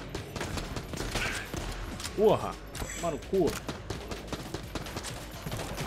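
Rapid gunfire from a powerful cannon-like weapon in the video game Enter the Gungeon rattles in dense bursts, with a player exclaiming loudly over the shots.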